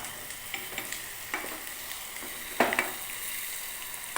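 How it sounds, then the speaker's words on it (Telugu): Ponnaganti greens frying with salt and turmeric in a pan, a steady close sizzle broken by light scraping stirs and one louder clatter midway, with no voices. "ఇట్లా కొద్దిగా వేయించుకోవాలి"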